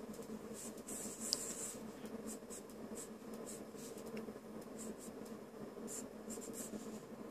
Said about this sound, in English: Let's draw a nose.